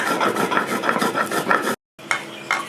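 Spices being coarsely ground in a grinder for garlic pickle make a steady, gritty rasping whir with rhythmic pulses. It cuts out for a brief silent moment, then resumes for a second round.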